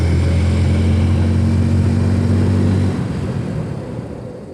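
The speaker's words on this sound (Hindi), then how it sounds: "चलिए दोनों ब्रेक को साइमल्टेनियसली अप्लाई करते हैं, तब देखते हैं कि ब्रेकिंग एफिशिएंसी कैसी है" A Hero Splendor Plus Xtec motorcycle engine drones steadily and close up at speed, then drops away and fades over the last second and a half as both brakes are applied together. No voices.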